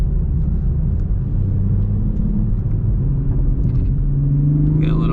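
Low, steady engine rumble from inside a 2021 Toyota GR Supra in sport and manual mode on a back road at night, rising into a brief rev near the end, with no clear exhaust pop.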